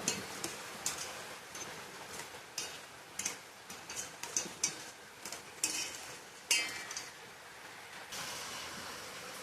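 Khichuri ingredients being mixed with mustard oil and turmeric: irregular soft scraping and tapping strokes, moderately close, at a steady uneven rhythm with no talking.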